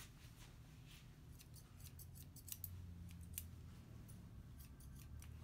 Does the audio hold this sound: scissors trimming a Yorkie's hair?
yes